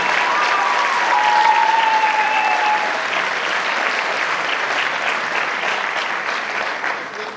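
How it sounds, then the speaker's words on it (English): A large audience applauds steadily for a school concert band at a high school winter concert, dense and sustained clapping that stays loud for several seconds before tapering slightly at the end. "So our concert band, everybody, one more round of applause."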